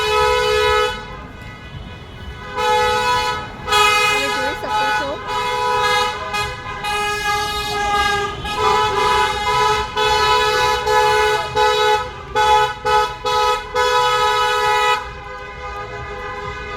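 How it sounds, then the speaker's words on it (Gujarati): Car horns honk over and over in a busy street in Leicester, celebrating an India cricket win, short toots and longer blasts overlapping, while a person talks over the din. "હોર્ન પર હોર્ન મારીને બતાવે છે કે ઇન્ડિયા જીતી ગયું છે."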